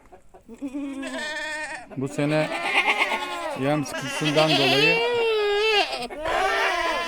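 Goats bleat on a village farm in Kocatarla, Kofçaz, with wavering, drawn-out calls rising and overlapping one another while someone speaks nearby.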